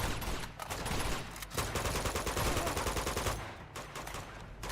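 Rapid automatic gunfire in an Uncharted game firefight, a dense stream of closely spaced shots with short gaps, fairly quiet overall.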